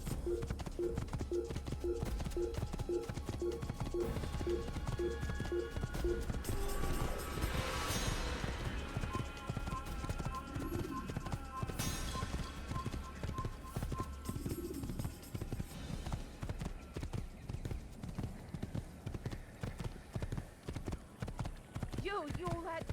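Rhythmic clip-clop of horse hooves at a steady gait in Assassin's Creed, with an occasional whinny, over a continuous music and ambient bed, with speech mixed in.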